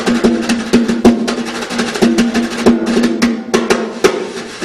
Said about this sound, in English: when Sammy came on stage and he put those tap shoes on, it would sound something like this